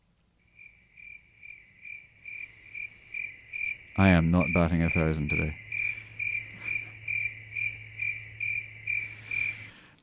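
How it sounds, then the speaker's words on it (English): Crickets chirp as a comic sound effect on a radio-style podcast, a steady pulsing trill repeating through the whole stretch, with someone speaking briefly over it in the middle. "Quiet, you crickets."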